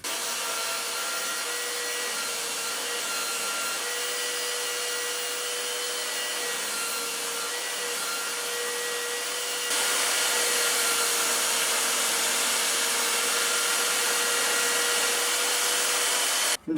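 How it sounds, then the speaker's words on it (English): A power sander works over a soprano ukulele top, a steady loud whirring drone with a constant hiss that grows slightly louder partway through and cuts off abruptly at the end. "I'm about to sand down to my lines"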